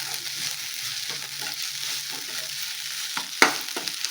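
Bajra rotla mixture with coriander being stirred in a pan, soft close scraping and gentle sizzle with a sharper clink near the end.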